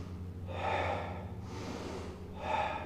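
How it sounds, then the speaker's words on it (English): An exaggerated deep breath in, taught as part of karate breathing practice, comes as three long, close airy inhalations with no talk. "when you're taking a deep breath in, okay, you'll really see that."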